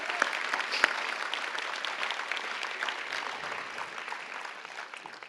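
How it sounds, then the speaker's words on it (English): A crowd applauds youth health award recipients at a ceremony, a sustained, even wash of clapping heard at moderate distance with a few sharper individual claps near the start. "let's just give all of these amazing individuals a final big round of applause"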